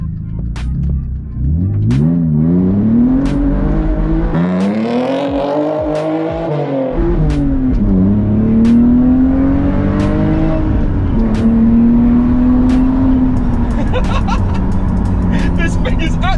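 Engine-swapped BMW E36 accelerating hard from inside the car, its engine note rising and falling through the revs, loud and continuous with people talking over it.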